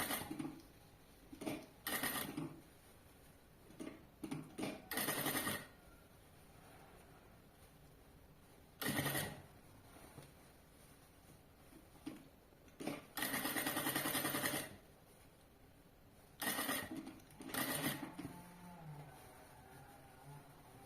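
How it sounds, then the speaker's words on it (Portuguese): A sewing machine stitches a bag that turns into a backpack, working carefully around the curves in repeated short bursts with quiet pauses between runs. "Costura com bastante cuidado nas curvas."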